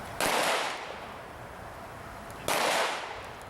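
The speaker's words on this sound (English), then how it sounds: "allowing us to use this video to show you how it holds up to gunfire" Two sharp, loud gunshot blasts about two seconds apart strike laminated glass, each with a bright crack that rings and decays into a hissing tail.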